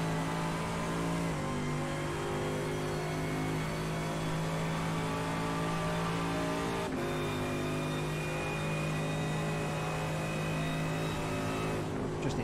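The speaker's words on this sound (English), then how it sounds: "Enjoy the sound of the Mercedes as we go up towards Blanchimont." Mercedes GT3 race car engine in a racing video game at Spa-Francorchamps, climbing toward Blanchimont: a loud, sustained high-revving drone with steady harmonics and a brief gearshift dip near the end, heard alone without talk.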